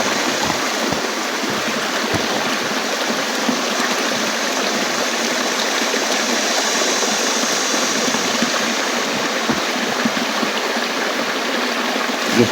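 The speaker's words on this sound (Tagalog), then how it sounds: "Sapa naman dito, kuha tayo ng tubig." A stream flows in a steady, unbroken rush of water, close and fairly loud for the whole stretch, with no voices over it.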